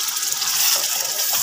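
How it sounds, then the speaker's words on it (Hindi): Water is poured into masala frying in a pan for fried masala brinjal, a continuous close hiss and gush with no pause. "हमने थोड़ा थोड़ा करके पानी शामिल करना है ताकि हमारा जो मसाला है वो नीचे से लगे ना"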